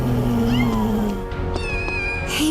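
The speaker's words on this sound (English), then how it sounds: "Kittens?" A cat meows in Final Fantasy VII Rebirth, several distinct rising, plaintive calls within a couple of seconds, close and clear against a quiet game background, with a higher squeaky cry at the end.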